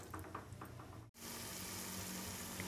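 Tomatoes and onions sautéing with curry leaves in a pan for mushroom biryani, a steady close sizzle that breaks off briefly and then comes back louder and fuller.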